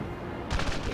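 Gunfire in the Medal of Honor game mission Operation Varsity, a single sharp crack followed by a brief rumbling tail that stands out over steady background battle ambience.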